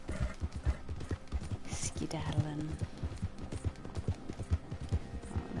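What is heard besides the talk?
horse hooves clip-clopping in a PS4 video game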